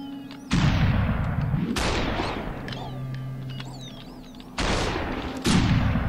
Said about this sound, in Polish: Strzelił.